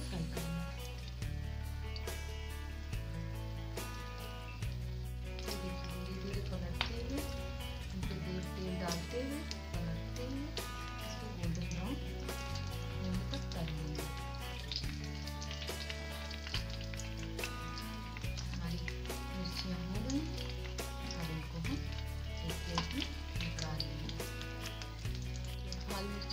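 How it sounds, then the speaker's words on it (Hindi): Stuffed green chillies for Rajasthani bharwa mirchi vada fry in oil with a steady crackling sizzle, running under continuous background music for the whole stretch. "ये देखिए, हमने सारी मिर्चियां तलकर निकाल ली है"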